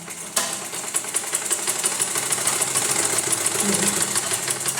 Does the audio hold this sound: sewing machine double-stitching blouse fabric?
yes